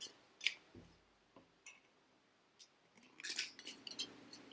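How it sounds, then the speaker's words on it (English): Scissors snip the ends off a soda can, giving a few sharp, close metallic cuts and clicks scattered over a quiet background with no talk. "Then you can go and trim the ends off, a little bit off."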